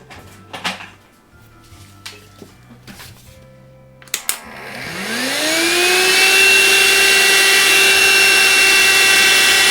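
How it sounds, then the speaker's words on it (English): A few clicks and knocks, then a vacuum cleaner motor starts up, its whine rising in pitch and settling into a loud, steady roar close by. "All right, vacuum cleaner."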